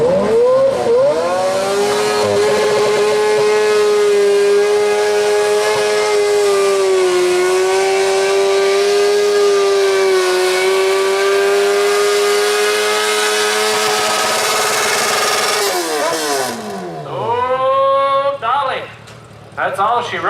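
A loud, sustained engine on a 1200 lb modified lawn tractor at a tractor pull drones at a steady pitch, then stumbles and drops off near the end while an announcer talks over it.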